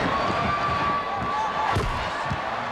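Crowd cheering fills a Portland basketball arena during a Dream Team game against Puerto Rico, a loud, steady roar that swells and dips for the whole stretch with no clear break.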